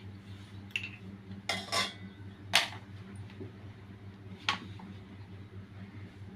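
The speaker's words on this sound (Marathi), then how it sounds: "आता कढई गरम होण्यासाठी ठेवली." A metal kadhai set down on a stove for heating, giving a few sharp clanks and scrapes spread across the moment over a steady low hum, with no talk.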